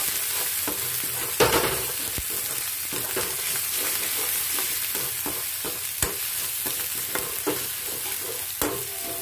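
Steady crackling sizzle of onions and spices frying in oil in a pan, with occasional clinks and scrapes of stirring.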